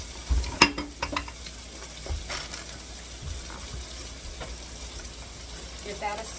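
Bacon and ham frying in a pan in a home kitchen, giving a steady low sizzle with scattered clinks and stirring scrapes, loudest in a brief knock near the start and then fading to a soft continuous crackle.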